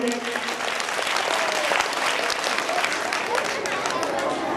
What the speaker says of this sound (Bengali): সুবর্ণা ব্যানার্জির জন্য একটা জোরে হাততালি